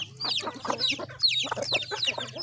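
Chickens clucking and a yellow rooster vocalizing close by in a farmyard, a busy overlapping run of clucks and squawks with no talk.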